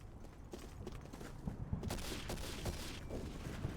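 Gunfire in the World War II shooter Day of Defeat: Source crackles in quick, faint, distant bursts over a dense, rumbling background, with no voices.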